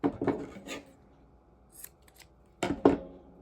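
Scissors snipping chunky knitting yarn make several crisp, close cuts: a quick cluster of snips at the start, a faint one midway, then two sharper snips near the end, with quiet gaps between and no talking.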